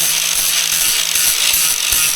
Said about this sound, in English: we can take an angle grinder to them and get all that dross off and get them ready for welding